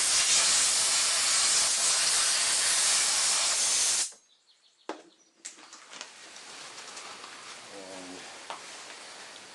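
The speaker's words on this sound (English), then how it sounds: "Just going to blow this out around the oil cap." A loud, steady jet of compressed air blows around the oil cap of a Chevrolet Malibu 2.4L Ecotec engine for about four seconds, then cuts off abruptly, leaving quiet shop background with a few small clicks and knocks.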